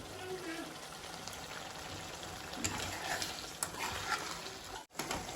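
Mutton liver frying in oil in a pan, a steady soft sizzle and crackle heard close up at low level, with brief stirring clatter near the end.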